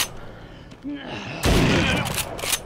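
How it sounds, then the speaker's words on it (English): Shotgun blasts in The Walking Dead: Saints & Sinners, a loud burst of broadband gunfire erupting partway through and sustained with several sharp cracks, after a quieter stretch of game ambience. "Can you believe how much of a bad shot I am with a shotgun of all things?"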